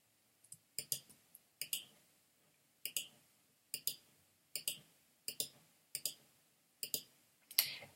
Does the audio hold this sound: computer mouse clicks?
yes